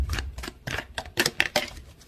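Tarot cards being shuffled by hand, a quick run of crisp riffling snaps and soft card slaps in an irregular rhythm, close and fairly loud with no talking.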